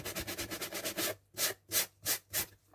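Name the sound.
sanding a rough hardcover board edge with a sandpaper block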